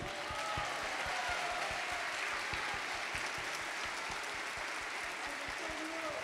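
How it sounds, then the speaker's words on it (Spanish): Concert audience clapping along in a steady, even beat at a music anniversary show, the rhythmic claps sounding under music and a voice throughout. "A batir las palmas"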